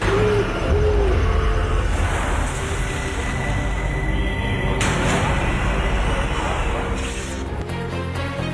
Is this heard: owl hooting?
yes